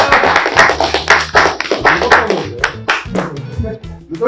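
A small group of people clapping loudly and unevenly in a room, with bursts of hand claps and a few voices mixed in.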